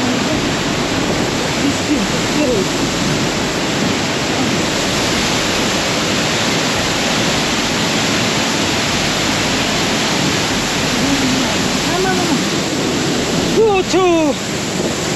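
Kanchenjunga Falls roars as a loud, constant broadband rush of falling water close by, with brief voices breaking through near the end.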